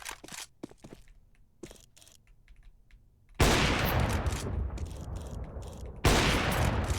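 Loud bursts of video game gunfire, a crackling sustained volley erupting after quiet clicking taps, then cutting off and returning sharply near the end.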